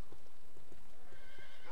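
Horse hooves clip-clop at a steady walking pace in the Dark Messiah of Might and Magic video game, with about six evenly spaced hollow knocks heard clearly over a constant ambient hiss.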